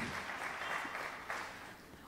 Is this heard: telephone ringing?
no